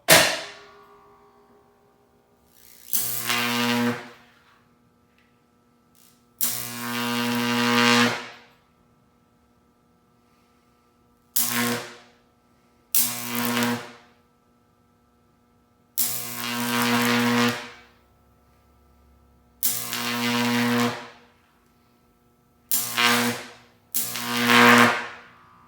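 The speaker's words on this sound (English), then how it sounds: "you'll hear the inrush current" A 14.4 kV, 15 kVA transformer switching on with an inrush hum and drawing long electrical arcs, about 24 inches. Around eight loud buzzing, crackling bursts of varying length are separated by near silence.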